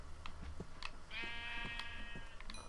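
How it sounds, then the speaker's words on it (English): A sheep in the Minecraft video game bleats once in a drawn-out, wavering cry, clear and alone after a few faint clicks and taps. "Alright, so we have a baby sheep."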